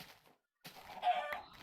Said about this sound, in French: Ah, qu'est-ce que j'aime tuer les poules.